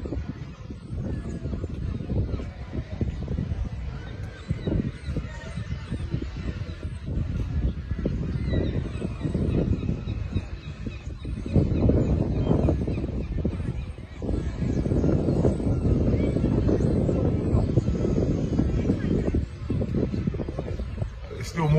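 A flock of migrating geese honks continuously overhead at Clacton-on-Sea, a dense overlapping chorus of calls that swells louder partway through, with no pauses.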